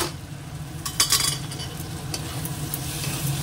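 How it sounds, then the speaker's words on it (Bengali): Fish paturi frying in a little oil, a steady close sizzle with a few stirring scrapes and light utensil clinks near the start, no talk. "এটা প্রায় ভাজা হয়ে গেছে, এটা এবার নামিয়ে নেবো"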